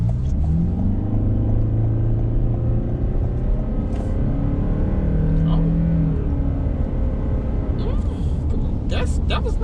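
Cabin of a 2021 Toyota Sienna LE Hybrid accelerating in sport mode: a steady low road and drivetrain rumble that swells as speed builds, with brief clicks and light background noise and no talk.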